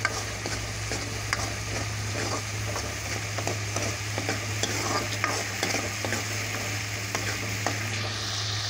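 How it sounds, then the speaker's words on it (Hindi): Ground onion-tomato masala for matar curry fries in oil while being stirred, giving a steady close sizzle broken by frequent small spoon scrapes and ticks, with a constant low hum underneath. "देखिए हमारा मसाला भून गया है, हम मसाले में तेल छोड़ दिया है।"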